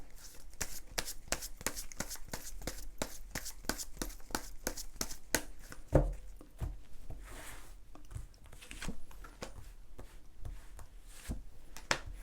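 A deck of tarot cards shuffled by hand over about twelve seconds, a steady stream of close, crisp riffling flicks and slaps with a sharper tap near the middle, heard alone without talking.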